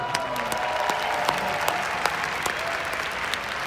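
Sustained audience applause fills a large hall at a Magic Johnson speaking event, dense steady clapping with a few sharper claps standing out, even in loudness throughout.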